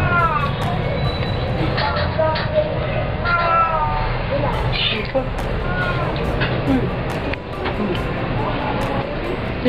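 A pet cat meows several times indoors, its cries rising over steady background noise while a person talks throughout.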